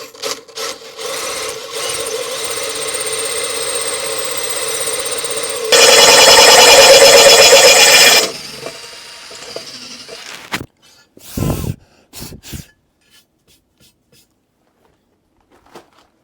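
A power drill whines steadily as a spade-tipped bit grinds through hard bathroom floor tile, getting louder and harsher for a few seconds before stopping, followed by a few clunks.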